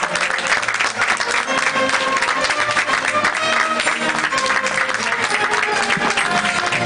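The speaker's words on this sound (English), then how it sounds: "Give him a round of applause." A commencement crowd applauds the student government president as he carries the class of 2024 flag, giving loud, dense, sustained clapping that fills the whole stretch.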